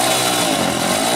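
A motorcycle engine with a stuck throttle screams at high, steady revs, a loud, close, unbroken buzzing roar with no pauses.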